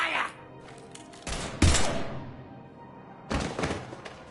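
Two loud bursts of weapon fire in Mass Effect 3 Legendary Edition, with heavy thumping shots, each lasting about a second, separated by a quieter lull with faint background sound.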